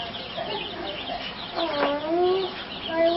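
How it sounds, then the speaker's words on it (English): Little, plump chickens cluck softly nearby, short warbling calls over a steady low background hum, with no voices. "Get in there and see the little chickens."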